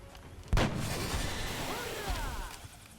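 A single sharp sniper rifle shot in XCOM: Enemy Within Long War, a loud sudden blast followed by a rumbling tail and faint game effects.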